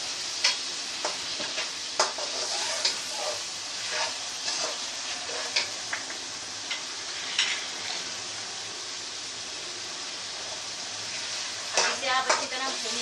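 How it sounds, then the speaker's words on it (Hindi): Ground spices and cumin sizzle and fry in oil for palak chicken, a steady crackle with occasional scrapes and clicks of a stirring utensil against the pan. "आप अच्छी तरह भून लें"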